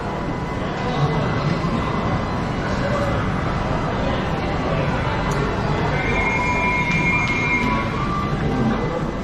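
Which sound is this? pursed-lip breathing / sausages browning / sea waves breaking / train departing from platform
train departing from platform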